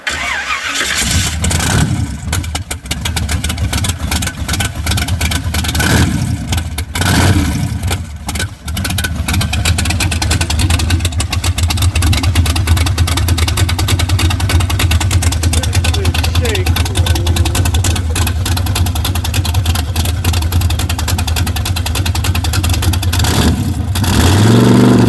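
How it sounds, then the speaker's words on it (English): An old truck with no muffler cranks and fires up, then runs loud and rough at a steady idle throughout, with occasional voices talking over the engine noise. "It's a little noisy. There's no muffler."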